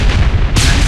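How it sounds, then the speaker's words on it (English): A grenade goes off in the Real Dino Hunter dinosaur-hunting game: a loud boom with heavy low rumble that sharpens into a bright, hissing burst about halfway through the short clip. "I'm using grenades to kill it."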